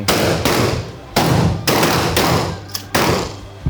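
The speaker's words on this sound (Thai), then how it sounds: "เตรียมพร้อมนัดเดียวยิง" A combat shotgun fired at an outdoor shooting range produces loud, heavy booming blasts with broad rumbling decay, several bursts following one another close to the microphone.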